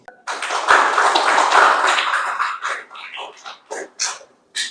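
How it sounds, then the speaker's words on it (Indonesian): A classroom of students claps for a presenting group, with a dense burst of applause that thins out into a few scattered, separate claps near the end. "Beri tepuk tangan untuk kelompok 1."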